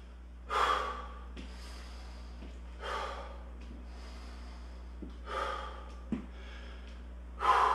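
A person catches their breath between rounds of a total-body workout, giving heavy, deep breaths with audible gasps and snorts spaced a few seconds apart, close to the microphone, with no talk.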